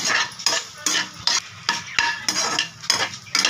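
Leftover chapati kothu parotta mixture stirred in a pan, a utensil scraping and clattering against the metal in about nine quick, regular strokes, close and alone with no talk.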